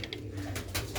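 Sialkoti pigeons give a brief, close, low coo with soft breathy bursts, heard alone and lasting about a second.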